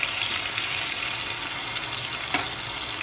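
Ginger garlic paste frying in a pan, a steady, loud, bright sizzle that runs unbroken throughout with a faint scrape partway through, and no voice.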